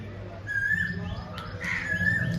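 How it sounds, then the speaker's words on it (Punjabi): Two rising, whistled calls of an Asian koel sound a moment apart, moderately near, over a low background hum. "ਦੇਖੋ ਕਿੰਨੀ ਸੋਹਣੀ ਕੋਇਲ ਦੀ ਆਵਾਜ਼ ਆ ਰਹੀ ਹੈ"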